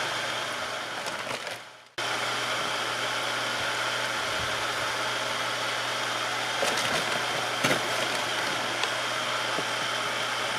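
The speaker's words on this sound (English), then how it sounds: "This isn't even a DC pump, this is an AC pump. It's a well pump." An AC well pump drives a gold turbine concentrator, producing a steady, loud motor hum and whir that cuts out briefly and then resumes at a constant level.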